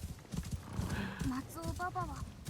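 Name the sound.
horse hooves in the video game Assassin's Creed Shadows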